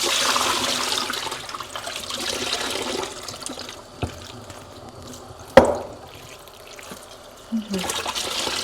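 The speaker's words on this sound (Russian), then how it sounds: "Теперь сливаем воду." Water pours and splashes out of a container of washed mushrooms, then trickles and drips away, with a few clunks of the container along the way.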